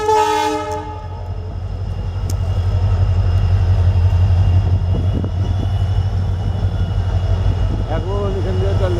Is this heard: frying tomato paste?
no